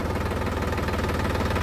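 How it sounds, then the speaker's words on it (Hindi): A Sonalika tractor engine idles steadily nearby with a low, even throb and a rhythmic knocking pulse, as the tractor is shuffled back and forth to turn in a small, cramped field. "छोटा ज़मीन है, इसलिए ट्रैक्टर को हर बार आगे पीछे कर कर घुमाना पड़ रहा है"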